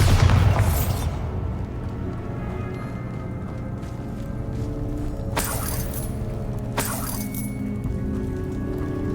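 Bombarda explosion spell in Hogwarts Legacy on PS5: a heavy boom opens, followed by rumbling game ambience and two sharp bright bursts later, with no voices.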